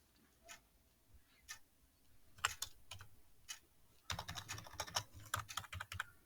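Quick bursts of keystrokes on a computer keyboard, sparse clicks at first and then a dense, rapid run of typing toward the end, close and fairly quiet, with no talking.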